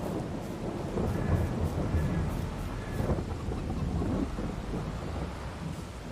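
Rumbling thunder rolls continuously under steady rain during a thunderstorm in the Farming Simulator 22 video game, a dense, loud wash of low booms and hiss with no pauses.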